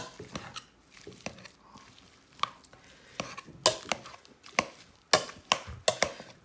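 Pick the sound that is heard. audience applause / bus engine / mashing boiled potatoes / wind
mashing boiled potatoes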